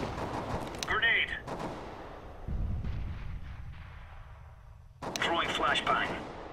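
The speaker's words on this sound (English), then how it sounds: "Grenade." A grenade blast in Counter-Strike: Global Offensive on the Inferno map, a deep booming burst in the middle of the clip, with short bursts of other game noise before and after.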